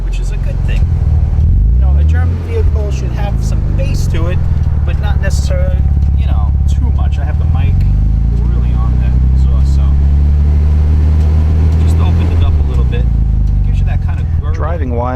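A 2002 Audi Allroad 2.7T quattro twin-turbo V6 fitted with Porsche Big Red brakes and a MagnaFlow exhaust, heard as a loud, deep, steady engine drone with low bass rumble, while someone talks close by over it.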